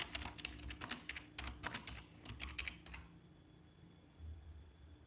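Typing on a computer keyboard while setting up a cloud server: a rapid, close run of key clicks for about three seconds, then a quiet room hum.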